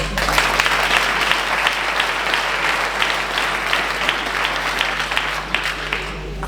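An audience applauds at a town's New Year greetings ceremony in Viviers, with sustained, even clapping from a large crowd, loud and close, and a low steady hum underneath.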